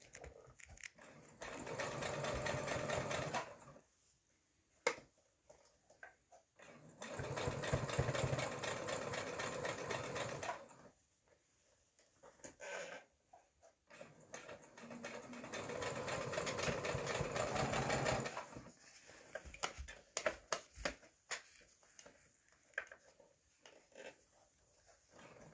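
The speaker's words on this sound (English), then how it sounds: "re-sew it so that you get a nice, more even" A sewing machine re-sews a seam in long, steady runs of fast whirring stitching, broken by short pauses and a few clicks, heard up close with no talk.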